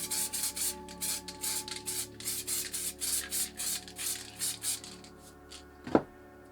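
Molotow Coversall water-based acrylic spray paint hissing from a can in a steady run of short, regular bursts, one after another, close and fairly loud, ending in a single sharp knock.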